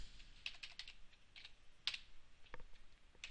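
Someone types C# code for a console application on a computer keyboard, giving quiet, close clicks in uneven bursts of keystrokes, with no talk.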